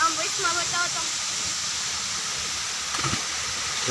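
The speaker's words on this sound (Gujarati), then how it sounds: "આ જમણી સાઈડમાં ફૂલમાંથી ગળકીના પાણી આવે છે" Rainwater runs through a village stream in a continuous broadband rush, a steady hiss of flowing water with no pause and a faint thump near the end.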